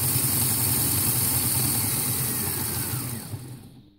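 An ABC motor gearbox runs in a model N7 locomotive with its body off, a close, steady mechanical whirring hum that holds for several seconds and then winds down to silence.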